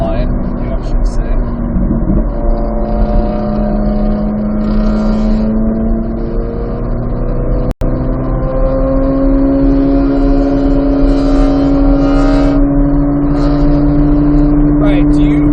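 A Corvette Z06 lapping Thunderhill track during an HPDE session, its engine droning steadily from inside the car and rising and falling in pitch through shifts and throttle changes, with a voice talking over it.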